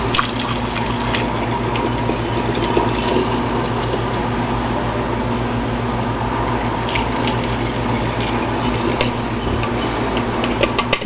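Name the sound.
filling containers with hot water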